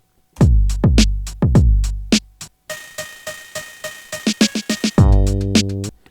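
Electronic drum pattern from a song's bridge with booming low hits and decaying tones, shifting into a rapid run of sharp synthetic hits, then a sustained tonal burst; no voices.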